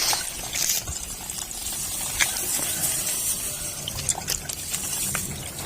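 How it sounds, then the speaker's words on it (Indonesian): Wet porang tuber flour pulp is squeezed by hand, giving irregular watery squelches, drips and trickles, fairly close, with splashy bursts scattered over a constant hiss. "kita peras"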